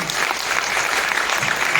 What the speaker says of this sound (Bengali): আর কাবনে আমার সঙ্গে ছিল তন্ময়, ওর জন্য একটা হাততালি হবে।